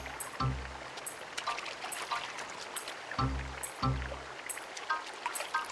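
Gentle flowing water from a cartoon stream runs steadily, broken by a few low splashy thumps and scattered light chirps.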